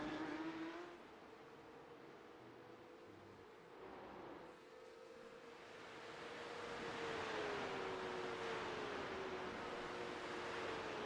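Porsche Cup race cars at Virginia International Raceway in a sim racing game, their engines whining and revving at a distance. The rising and falling pitch swells louder toward the end as cars pass by.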